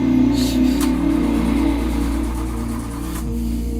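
A stalled car on a forest road where elephants pass gives a steady low engine rumble with some revving, fairly loud and close, with no one speaking over it.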